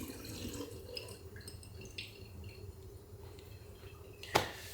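Produce is washed under a running kitchen tap, with soft trickling and dripping water, small splashes and squishy handling sounds at close range, and a sharper splash near the end.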